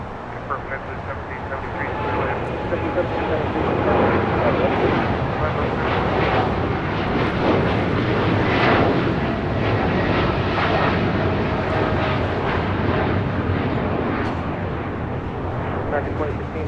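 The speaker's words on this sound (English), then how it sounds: "This is United Airlines 2614 taking off to Newark, a 787-10 Dreamliner" A United Airlines Boeing 787-10 Dreamliner takes off from LAX bound for Newark, a steady, loud broadband jet roar that swells slightly and holds throughout, with faint talk mixed underneath.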